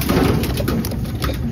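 Racing pigeons coo close by in a loft, a constant low murmur of overlapping calls with a patter like rain underneath.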